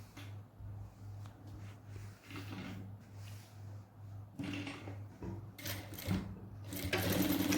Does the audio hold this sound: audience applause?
no